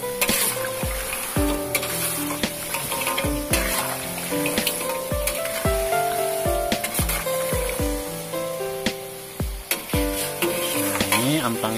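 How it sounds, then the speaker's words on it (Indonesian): Amplang fish crackers fry in hot oil, a bright crackling sizzle with sharp pops and scraping stirs throughout, loud and close, under a steady background music track. "Intinya kalau dia si amplangnya sudah tidak berbunyi lagi, itu tandanya amplang masak."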